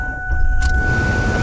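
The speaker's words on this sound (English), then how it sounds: "it does not need to be on the gas to start this car up" A 1998 Ford Taurus cranks and fires up with no foot on the gas, starter clatter giving way to a steady idle rumble with a constant whine.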